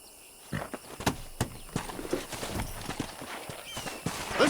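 Horse hooves clip-clop in a steady walking rhythm in the Red Dead Redemption game, close and fairly loud, with an occasional neigh and faint voices in the background.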